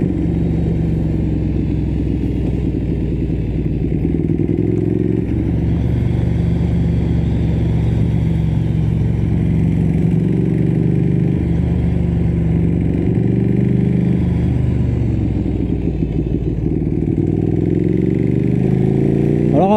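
A Ducati Streetfighter 1098S ridden on the road gives a continuous loud, low engine drone mixed with wind rush, the pitch rising and easing slightly with throttle changes throughout.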